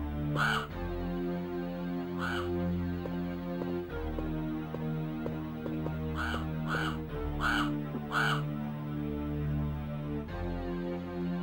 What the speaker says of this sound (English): Yeah, the crow sounds are also different.